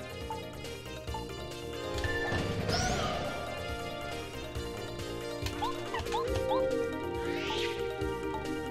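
A Quake Hammer attack in Paper Mario's final battle against Jr. Troopa lands as a crashing smash over the game's background music, followed by scattered chiming effects.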